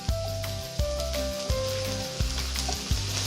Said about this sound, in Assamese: এইটো হালকা ভাজি ল'ব লাগিব বস্তুটোকে।